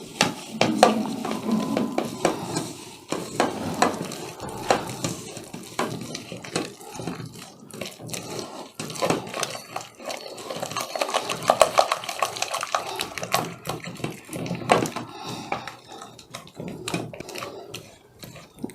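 Raw chicken is mixed by hand with a spice coating in a bowl, giving wet, squelching, irregular slaps and stirring sounds, close and moderately loud, with no talking.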